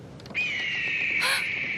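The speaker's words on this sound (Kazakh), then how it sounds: "Ананы естідіңдер ме? Бұл қандай құстың дауысы?" A single loud, drawn-out bird call rises sharply and holds steady, with a harsher squawk breaking in near the end, heard alone.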